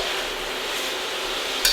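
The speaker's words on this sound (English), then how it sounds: "You can probably go ahead and stir those vegetables in." Vegetables for shrimp lo mein sizzle in a hot pan over high heat, a steady close hiss for under two seconds, with a brief clatter at the end.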